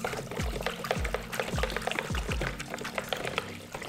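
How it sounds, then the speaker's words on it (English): A chopstick stirs a citric acid solution in a container, making repeated swirling liquid sloshes and soft knocks in a steady rhythm, close and moderately quiet, with no voices. "give it a good stir with the trusty chopstick"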